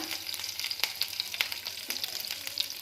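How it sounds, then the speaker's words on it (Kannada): Curry leaves dropped into hot oil with mustard seeds and cumin crackle in a pan for North Karnataka jowar masala mudde, a close, bright frying sizzle with sharp popping bursts throughout. "ಅದಕ್ಕೇ ಕರ್ಬೇವು ಹಾಕೋಣ"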